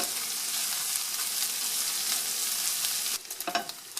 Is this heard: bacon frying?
yes